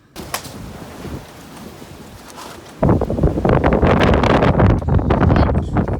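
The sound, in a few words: strong wind in a storm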